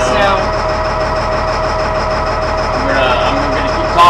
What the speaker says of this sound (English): He's gonna keep revving up the RPMs